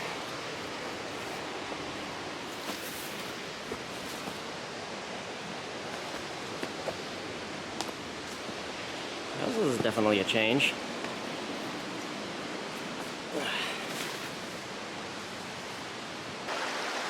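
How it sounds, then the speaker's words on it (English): Rapids rush over a jumble of broken rocks and boulders in a river along a hiking trail, a steady broadband wash of water throughout with a brief louder splash partway. A voice speaks briefly over the flow. "Sounds like there's some rapids and stuff going on in the water"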